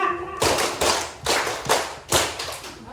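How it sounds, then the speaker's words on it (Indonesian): An audience in a teacher training class claps hands together in a counted pattern, with about five distinct, fairly loud bursts of clapping at a regular rhythm, separated by short pauses. "Bapak Ibu tepuk tangan terlalu banyak."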